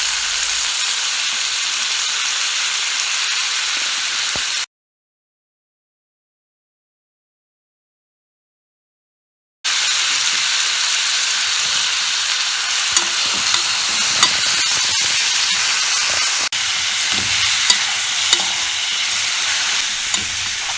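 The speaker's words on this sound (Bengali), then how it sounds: "পেঁয়াজটি সিদ্ধ হওয়ার পরে আমরা গোস্তগুলো ঢেলে নিব, মানে পাতিলের উপরে, এবং আস্তে আস্তে এটাকে ভাজতে থাকবো।" Beef pieces fry with onions in a pot and are stirred slowly, making a steady loud sizzle with scraping and clinking from the stirring. The sizzle drops out completely for several seconds partway through, then resumes.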